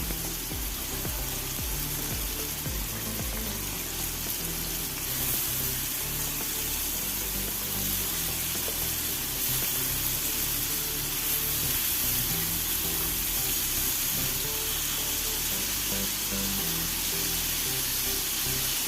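Prawns frying in a pan for a Kerala-style prawn roast, a steady loud sizzle with constant crackling hiss, close and unbroken, with no talk.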